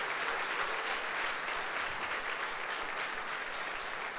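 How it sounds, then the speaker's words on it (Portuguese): A church congregation at a Sunday worship service gives a sustained burst of applause, a dense, even wash of clapping from many hands that stays loud and steady throughout, with no voices standing out. "Quem crê e recebe, dá um aplauso ao Senhor Jesus aí"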